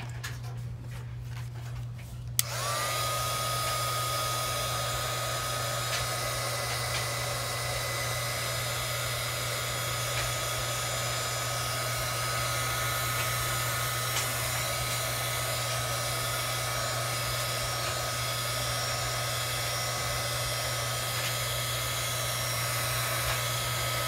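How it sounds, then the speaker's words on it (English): A heat tool blowing on chalk paste switches on after a short pause and runs as a steady, loud, whooshing hum with a constant motor drone, close and unbroken to the end. "Just putting some heat, put the heat tool just to grind the chalk paste."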